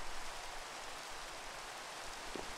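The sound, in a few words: rain falling in the Minecraft video game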